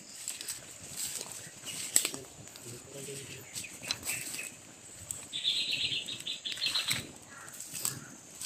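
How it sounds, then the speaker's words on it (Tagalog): Crows' wings flap in bursts with scattered calls, plus a brief shrill cry midway, against an outdoor background with faint voices. "may mga uwak pa"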